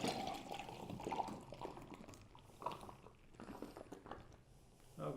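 American-made stout beer poured hard into a glass, a short gushing, splashing pour close by with bubbling and foaming as the glass fills.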